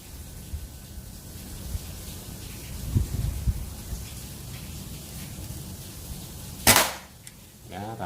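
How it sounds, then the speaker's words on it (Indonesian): One sharp, loud report from a Monel OD 27 mini bullpup PCP air rifle at 3500 psi rings out near the end, standing above a constant rain-like outdoor hiss with a few soft handling knocks beforehand. "Tembakan kedua"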